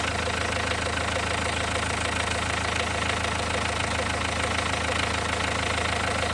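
A Renault 1.5 dCi diesel engine idles after injector repair with a steady, dense, even clatter, loud and close, with no change and no talk.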